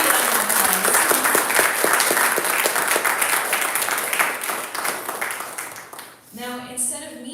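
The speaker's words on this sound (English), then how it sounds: "please give them a big round of applause" Applause for graduating students of a youth empowerment program rolls on steadily as dense, sustained crowd clapping, then thins out near the end as a voice begins to speak.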